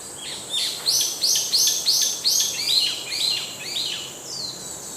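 Small caged birds at a busy bird market in Mirpur chirp in quick repeated bright notes, a steady run of sharp calls with no talking over them.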